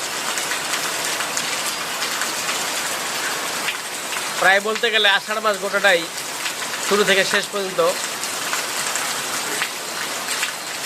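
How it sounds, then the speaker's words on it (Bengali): Heavy monsoon rain pours steadily as a dense, continuous hiss throughout, with someone speaking over it in two stretches midway. "দেখেন কিভাবে বৃষ্টি হচ্ছে, বৃষ্টির জলধারা দেখেন কিভাবে ঝরছে।"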